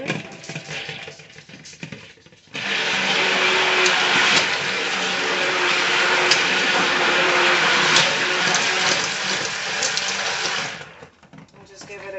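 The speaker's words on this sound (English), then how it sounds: "Good mix and a little blending." A blender whirs steadily through thickening soap cupcake batter, a loud, even motor drone that starts abruptly, runs for about eight seconds and then cuts off, with quieter handling sounds before and after.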